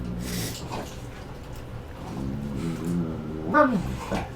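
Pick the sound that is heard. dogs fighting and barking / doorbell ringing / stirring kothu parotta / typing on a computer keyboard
dogs fighting and barking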